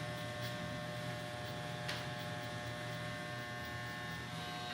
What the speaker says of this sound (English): I'm going to take my adjustable clipper all the way open, so it's almost a 1.